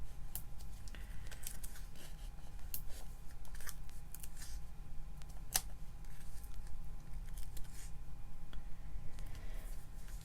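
Scissors snip through paper card while Christmas cards are being made, with scattered short cuts spread across the stretch over a steady low background hum and no talk.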